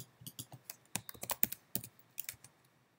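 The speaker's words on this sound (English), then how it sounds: "type in your name" Keys on a computer keyboard tap in a quick, uneven run of a dozen or so crisp, close clicks over about three seconds, with no other sound.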